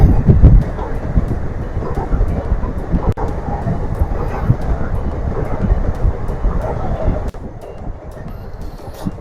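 A train rolls past below the Alappuzha lighthouse, a steady broad rumble heard from above and at a distance, with wind noise across the whole stretch and no talking.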